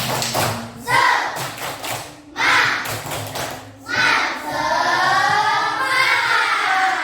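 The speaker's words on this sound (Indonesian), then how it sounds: "Coba cek semangatnya dengan tepuk semangat" Children in a classroom doing the rhythmic 'tepuk semangat' clapping chant, loud bursts of clapping alternating with shouted chanting voices in a repeating pattern, ending in a sustained group shout.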